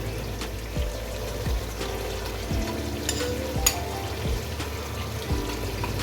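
Beef frying in a pot with nihari masala makes a steady soft sizzle, with occasional stirring scrapes and light clinks over the ongoing crackle.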